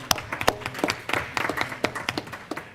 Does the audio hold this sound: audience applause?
yes